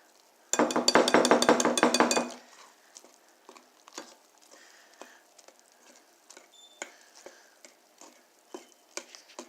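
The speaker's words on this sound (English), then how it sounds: "we're going to whisk until just combined, until it's lumpy" Pancake batter whisked in a bowl, a burst of rapid rhythmic metal-on-bowl scraping for about two seconds, then scattered light clinks and taps, close and moderately loud.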